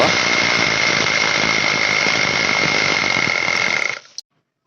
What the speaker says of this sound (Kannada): ಕೆಳಭಾಗದ ಕಲ್ಲಿನಲ್ಲಿ 3/4 ಇಂಚ್ ರಾಡು ಫ್ರೀಯಾಗಿ ಆಪರೇಟ್ ಆಗೋ ರೀತಿ ಹೋಲ್ ಮಾಡಿದ್ದೀನಿ